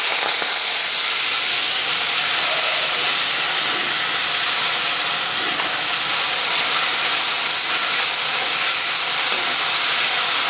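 Sorrel leaf stalks sizzle and hiss loudly in a hot pan, a steady frying crackle that never lets up, with no one talking.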